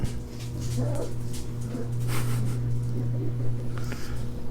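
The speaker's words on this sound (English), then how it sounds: "The dogs don't know how to be quiet." Dogs whimper and yip in the background of a workshop where a Seiko 6138-0011 watch is serviced, giving a few faint, high whines over a steady low hum.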